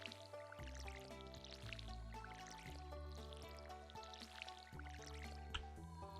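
Crops being watered with a watering can in the farming game Stardew Valley: soft dripping, splashing pours under steady, prominent background music, with no one talking.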